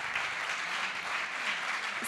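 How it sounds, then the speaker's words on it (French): Audience applause at a French sports-label award ceremony, dense continuous clapping from a seated crowd, even in level throughout the short burst. "Et des applaudissements pour ce Creps"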